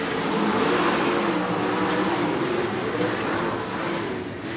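Race cars circling the El Paso County Raceway track at night, a dense roar of engines that stays loud and steady, swelling and fading slightly as cars pass, with no talk.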